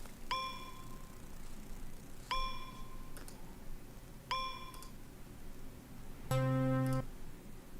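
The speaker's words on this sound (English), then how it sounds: "Basic bell." A basic electronic bell tone from a music device rings three times in a slow, even rhythm, each strike decaying quickly, followed by a brighter, denser chime. The bell sounds clean and fairly quiet with no voices.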